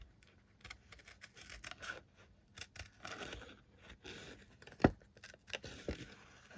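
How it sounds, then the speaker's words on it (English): Scissors snip through a paper card during fussy cutting, producing quiet, irregular close-up cuts and rustles with small pauses between them and one sharper snip partway through. "then just simply fussy cut as you would normally do"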